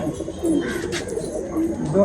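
Racing pigeons in a loft give low, repeated cooing, a soft murmuring rumble that rises and falls under faint background chatter.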